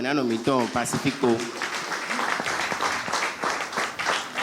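A church congregation breaks into applause at a service, dense clapping that swells after a voice and carries on steadily throughout, with shouts and speech mixed in.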